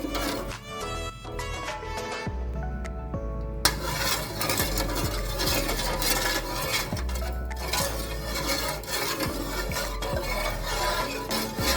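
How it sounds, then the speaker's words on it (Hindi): A spoon stirs a milk mixture with sugar and green cardamom in a pot, soft scraping and clinking strokes repeating steadily under background music, made while preparing ras malai. "अब इसे मिक्स करेंगे जब तक हमारी चीज़ें डिज़ोल्व हो जाए।"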